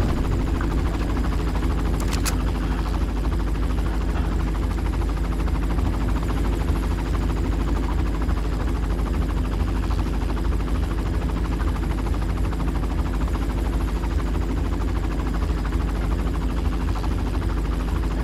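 A helicopter in the Far Cry video game, a loud continuous rotor and engine drone that holds steady and close for the whole stretch, with a brief sharp crack early on.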